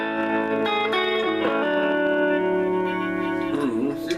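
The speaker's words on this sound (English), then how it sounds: "with nasty distortion" Electric guitar with heavy, gritty distortion plays sustained, buzzing chords that ring out continuously and loud, with a bending note near the end.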